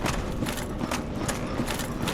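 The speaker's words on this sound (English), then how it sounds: "I can hear the footsteps of a Black Knight." Heavy armored footsteps of a Black Knight in the Dark Souls video game, a repeating thudding clank at a regular pace heard over a dense, noisy background.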